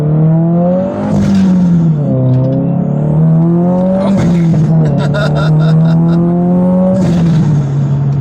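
A tuned 2022 Subaru WRX engine drones loud and steady from inside the car as it accelerates, its pitch climbing gently before dipping and rising again.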